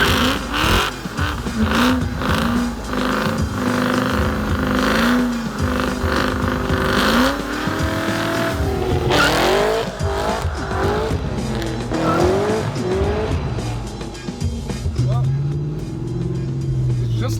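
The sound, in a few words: car with supercharged LSA engine driving and revving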